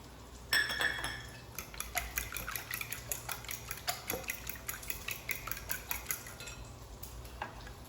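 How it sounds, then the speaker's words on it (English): Eggs being whisked in a bowl with a utensil for a meatloaf recipe, giving a steady run of close, rhythmic clinking and scraping strokes against the bowl, fairly loud and alone with no talking. "Mix up these eggs."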